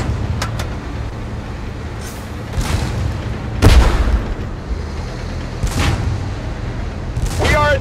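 Tank cannon fire in the game Tank Force, several heavy booms at intervals over a steady engine rumble, one especially loud blast in the middle, with voices talking under the battle noise.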